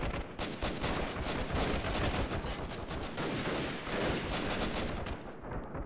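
Rapid gunfire in the Freeman Guerrilla Warfare video game: loud, dense bursts of automatic rifle shots crackling nearly continuously, overlapping volleys and sharp reports with no pauses.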